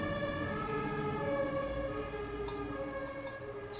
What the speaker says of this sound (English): excuse me for the sirens